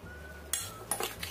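A utensil stirring ingredients in a pot gives a few quiet metallic clinks and scrapes over a low steady hum, with no talking.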